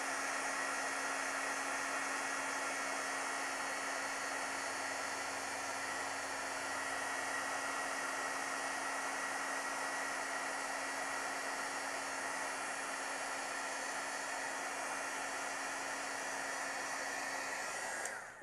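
A heat tool blows over a freshly stamped card for heat embossing, giving a continuous, even, airy hiss with a faint steady hum underneath that runs unchanged for well over fifteen seconds before stopping.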